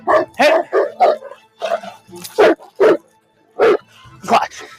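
Eight or nine sharp barks burst out in an uneven rhythm from a dog in a tense training session, loud and close, with brief pauses between them.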